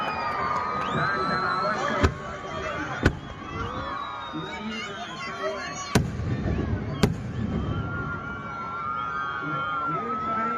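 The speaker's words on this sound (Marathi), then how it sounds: "अशा प्रकारचे वेगळे वेगळे फटाके आपल्याला या अशा प्रदर्शनातून" Festival fireworks display in Barshi go off, sharp loud bangs spaced a second or more apart, with whistling rockets and crowd voices throughout.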